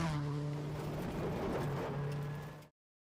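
A car engine roars in a steady, loud drone with a hint of tire noise, holding evenly for under three seconds before cutting off abruptly.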